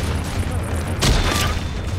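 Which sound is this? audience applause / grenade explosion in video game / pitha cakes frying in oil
grenade explosion in video game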